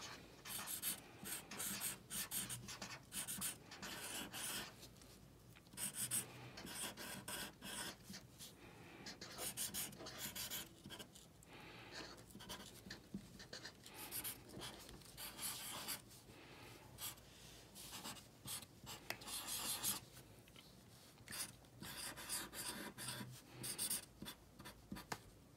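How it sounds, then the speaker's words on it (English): A Sharpie marker writes on a paper rainbow, close and quiet, giving repeated short squeaky scratching strokes with brief pauses between them. "or a Sharpie, if I can find one. You can write it on top of your rainbow,"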